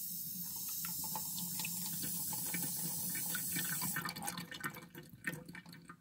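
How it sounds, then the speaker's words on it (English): A miniature wall-hung toilet, already badly cracked, flushes with a steady rush of water for about four seconds, then breaks into gurgling, uneven splashes as the bowl drains. No one speaks. "First flush."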